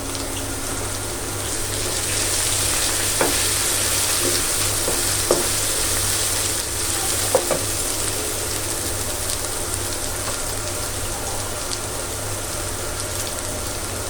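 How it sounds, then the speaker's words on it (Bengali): Spice paste of red chili powder, coriander powder and turmeric frying in a pan, a steady loud sizzle with occasional scraping stirs, close and continuous with no talking. "মশলাটা একটু ভালো করে কষিয়ে নিই।"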